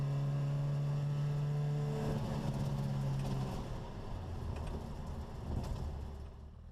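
A 1959 Sebring Sprite with a Weber carburetor pulls under load, its engine drone steady at first and then shifting as it accelerates, with wind and road rumble filling in behind.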